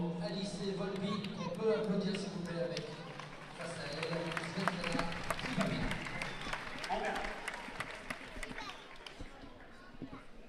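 Audience applause fills a fencing hall during a women's foil World Cup semi-final in Saint-Maur, 2017: steady, dense clapping with crowd noise that rises early and lingers for about ten seconds.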